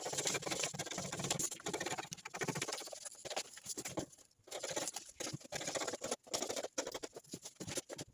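Scissors cutting out fabric for a pencil skirt, a close, steady rustling and snipping with crisp irregular cuts that run almost without a break for about eight seconds.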